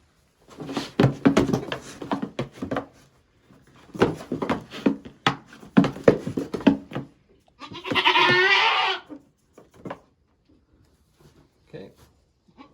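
A pack goat bleats loudly for a couple of seconds while held still for a microchip implant, between stretches of people talking and handling noises.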